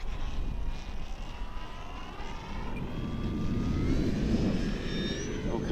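Air Tractor 1.5m RC model airplane making a slow pass into the wind, its electric motor a thin, rising whine that swells louder as it nears over steady outdoor background noise.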